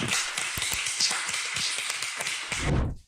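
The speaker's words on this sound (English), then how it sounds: "Round of applause." An audience applauds a startup founder, a short burst of steady clapping from a room of people that swells near the end and then cuts off.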